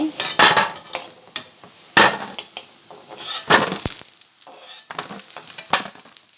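Chana dal fritters are lifted out of a frying pan, with repeated clinks and scrapes of a metal utensil against the pan over a soft sizzle of oil, close and irregular.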